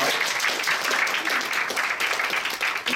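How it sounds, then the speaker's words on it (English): An audience applauds a speaker after a question session: thick, continuous clapping from a room full of people, evenly sustained at moderate loudness for the whole stretch. "can we have a round of applause for Scott?"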